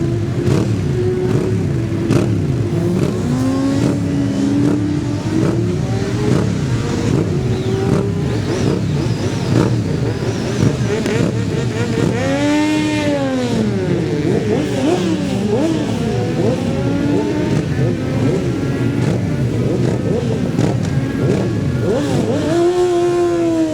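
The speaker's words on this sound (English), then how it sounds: "Stephen Carr on his classical green Kawasaki is number" A classic green Kawasaki motorcycle and other machines at the 2011 Manx Grand Prix Senior race roar continuously at close range, with loud engine revs rising and sweeping past.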